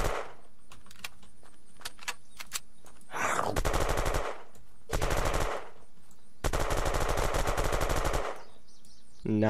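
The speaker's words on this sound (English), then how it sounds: "it's a nice little Rambo weapon that shoots very fast, garners a lot of attention" Rapid machine-gun bursts from a fast-firing Rambo-style weapon in the video game Unturned: three loud sustained volleys of dense, rattling shots, each lasting about a second or two, with scattered single clicks before them.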